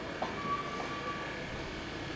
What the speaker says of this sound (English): I'm about to get passed by a train here. It's very loud.